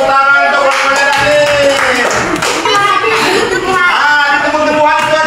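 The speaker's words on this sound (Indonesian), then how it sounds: "tepuk tangan untuk pohonnya tadi" Classroom applause from students for a children's tree presentation, loud dense clapping sustained throughout with children's chatter and laughter mixed in.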